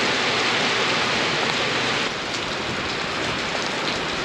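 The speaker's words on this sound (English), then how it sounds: "All last night and into this morning, we have been dealing with a pretty crazy rainstorm" Heavy rainstorm pounding down outside on a farm, a dense, steady roar of rain that holds loud and unbroken throughout, with no voices.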